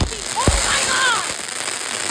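An Air Defense firework bursts into crackling mines, sharp pops followed by whistling, crackling trails overhead, loud and fairly close, with excited shouting mixed in.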